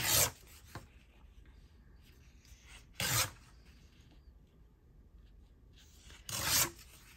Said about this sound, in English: I'm going to tear off the border